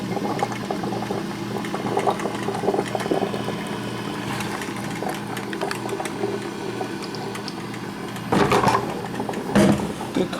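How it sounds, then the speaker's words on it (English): A 1995 Black & Decker thermal carafe coffee maker brews, giving a steady gurgling, bubbling hiss of hot water with louder sputtering bursts near the end, close by. "Good coffee machine."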